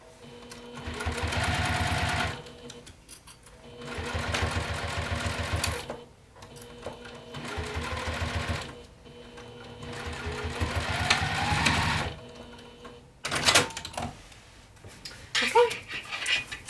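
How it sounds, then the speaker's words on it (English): A sewing machine runs in several steady bursts of stitching separated by short pauses, sewing a bag's folded bottom edge closed; a dog pants and whimpers nearby toward the end. "Now I'm just sewing 1/8 of an inch away from that folded edge just to close up the bottom"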